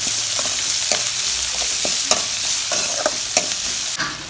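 Brinjal tamarind curry ingredients sautéing in a pan with garlic and tomato, a steady close sizzle of frying broken by sharp scrapes and clicks of a spoon stirring at irregular intervals.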